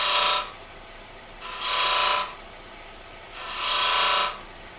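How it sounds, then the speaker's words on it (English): Woodturning lathe with a pointed carbide diamond cutter shaping beads, three bursts of bright hissing scraping as the tool meets the spinning wood, separated by quieter gaps of motor hum. "using the diamond cutter from Harrison Specialties, I can get much sharper in between the beads"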